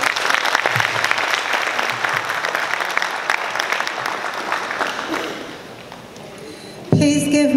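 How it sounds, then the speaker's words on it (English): A townhall meeting audience breaks into sustained applause, a dense wash of many hands clapping at steady loudness for several seconds before it thins out and a voice cuts in near the end. "Please give Michaela a big applause."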